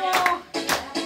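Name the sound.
applause, audience clapping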